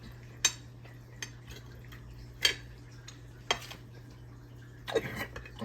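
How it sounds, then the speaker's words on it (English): Cutlery cutting into tender sautéed shrimp on a plate, a few sharp separate clinks and scrapes of metal on the dish spaced over a quiet room hum. "Cut into this nice tender shrimp"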